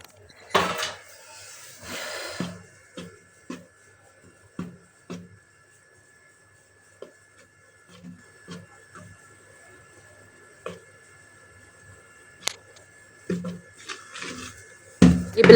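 A spoon mixes flour into muffin batter in a bowl, giving sparse, irregular taps, knocks and soft scrapes separated by quiet gaps, with a few louder clatters near the start and end.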